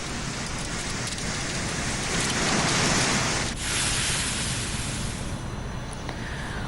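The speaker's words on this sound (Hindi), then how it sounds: "आसमान से बड़े बड़े ओले बरसने के बाद मूसलाधार बारिश भी हुई।" A heavy downpour follows a hailstorm in Pulwama, a dense, continuous roar of rain beating on surfaces that swells slightly midway, with no voices.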